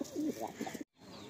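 Pigeons coo at a loft in a soft, throaty, rolling series of calls for under a second, close and moderately quiet, and then cut off abruptly.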